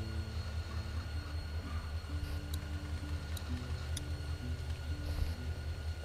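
Steady low rumble and rhythmic clatter of a passing train, heard from close by, with faint high metallic squeals from the wheels.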